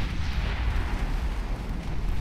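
A battleship's main guns and secondary batteries fire in Ultimate Admiral Dreadnoughts, a loud, continuous rumbling barrage of overlapping booms with no clear gaps between shots.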